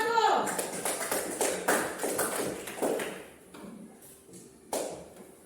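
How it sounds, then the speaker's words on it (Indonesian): A classroom of pupils claps for the first group: a burst of scattered, uneven hand claps that thins out and fades, with voices murmuring underneath. "Kita tepuk tangan dulu untuk kelompok 1"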